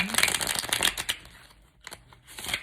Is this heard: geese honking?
no